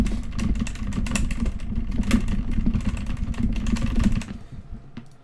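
A keyboard spacebar is jitter-clicked as fast as possible for about four seconds, a dense rapid rattle of close clicks over a low hum, stopping abruptly and leaving a single stray click.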